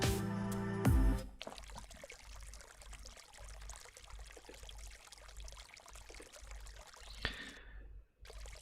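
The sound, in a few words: water running while washing dishes, from Honkai Impact 3rd video game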